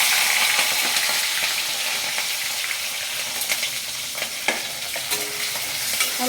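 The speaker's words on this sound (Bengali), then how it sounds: "প্রথমে আমি সিমলা মির্চিটা একটু ভেজে নিই।" Chopped capsicum fries over high flame in a pan, a bright continuous sizzle with scraping stirring strokes and a few sharp clicks of the spatula, close and fairly loud with no talking.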